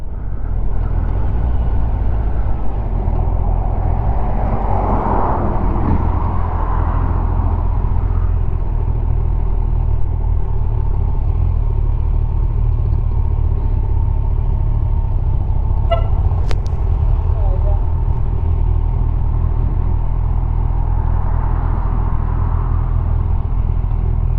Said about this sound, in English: that's the Super Sport Honda CBR